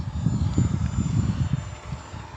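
Engine roar of an RC F-86 Sabre model jet with a 64mm ducted fan, doing a touch and go at an airfield: a steady, fairly loud rushing whine that holds throughout with slight surges.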